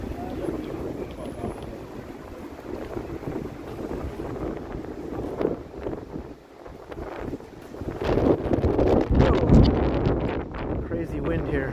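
Strong gusting wind buffets the microphone on a city street in Toronto at sunset, a constant rough roar that swells louder toward the end, with faint voices underneath.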